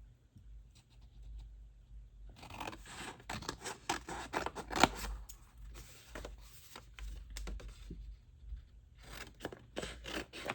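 Scissors snip through paper in quick, crisp bursts, several cuts in irregular clusters with short pauses, close and fairly quiet.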